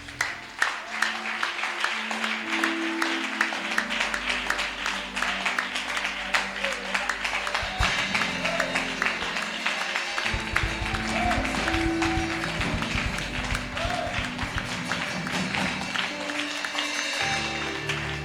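A church congregation at a gospel festival applauds and cheers, a dense continuous wash of clapping and crowd noise that holds steady throughout, with music and voices running underneath.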